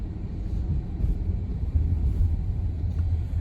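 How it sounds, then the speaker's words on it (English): A 2022 Jeep Grand Wagoneer rolls over bumps, heard from inside the quiet cabin as a low, uneven road rumble with soft thumps rising and falling over a few seconds. "As we're going over bumps"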